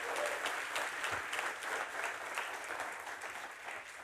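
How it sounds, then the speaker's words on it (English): Big round of applause from a large tech event audience congratulating startups, dense continuous clapping filling the hall, moderately loud and steady. "Let's give them a big round of applause."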